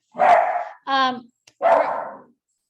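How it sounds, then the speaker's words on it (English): A pet dog barks close to the microphone in a home, giving a couple of loud barks with a short whine between them, heard alone. "Sorry, my dog."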